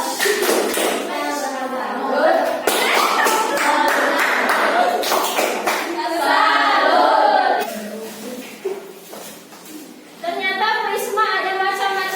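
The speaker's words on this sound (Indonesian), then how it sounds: "tepuk tangan buat ketiga kelompok ini" Students applaud three groups in a classroom with a dense burst of many hands clapping, loud and close, with children's voices chattering through and around it, pausing briefly before clapping resumes.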